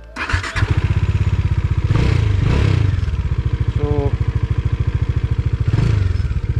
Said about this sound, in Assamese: চ' নাও লেটছ ষ্টাৰ্ট দ্য বাইক